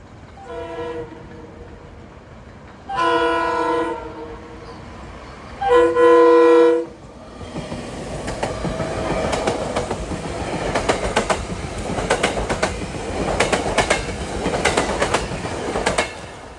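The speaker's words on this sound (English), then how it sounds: "Those horns just don't compare with the Silverliner 5s." A SEPTA MU commuter train on the main line near Rice's Mill Road sounds three loud horn blasts, then passes close by with a rushing, clattering rumble of wheels over rail joints.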